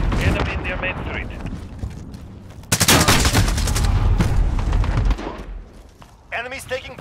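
Heavy automatic gunfire and explosions in the shooter Call of Duty: Modern Warfare, a sustained loud burst of shots with radio-style voice callouts before and after.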